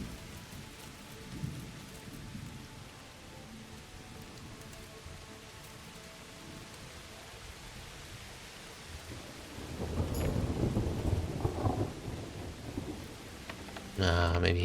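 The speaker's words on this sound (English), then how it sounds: "It's so sunny out for a thunderstorm." Thunderstorm in the medieval role-playing game Kingdom Come: Deliverance: steady rain patters throughout, with a heavy roll of thunder building near the end and a sharp crack at the close.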